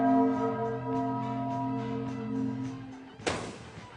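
Resonant bell-like chimes from a clock ring out with long sustained tones that linger for about three seconds, followed by a sudden bright crash.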